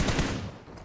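Rapid burst of gunfire in the battle-royale shooter PUBG Mobile, several quick close shots fading out within a second.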